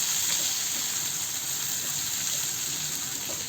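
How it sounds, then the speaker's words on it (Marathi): Chopped onion frying in oil with dried red chillies over a low gas flame, for a garlicky spinach dish: a steady, close, even sizzle with no breaks and no voices. "कांदा परतून घेऊ।"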